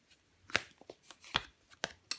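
Tarot cards are laid down and covered one after another, making sharp papery slaps and flicks at an irregular pace, close by and with no voices.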